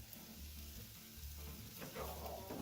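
T-bone steaks sizzle in a pan, giving a loud continuous frying hiss up close with a faint rhythmic background hum.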